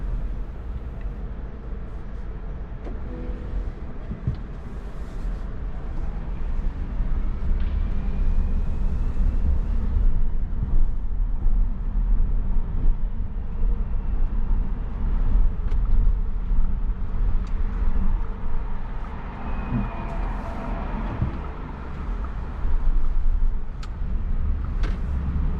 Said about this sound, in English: let's go for a quick drive